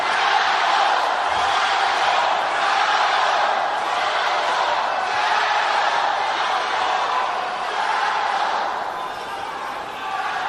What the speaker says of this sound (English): it's perfectly normal for the crowd to get involved like this